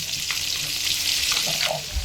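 Pieces of fresh pond katla fish fry in hot oil, a close, steady crackling sizzle with small pops, left unstirred, with no talk.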